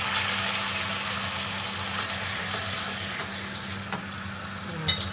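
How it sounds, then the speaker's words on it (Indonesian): Kwetiau flat rice noodles stir-fried in hot oil, a dense continuous sizzle with a low hum underneath and a few light utensil taps toward the end. "Nah, kita tumis hanya sebentar saja ya, hanya memberi rasa di kuetiaunya."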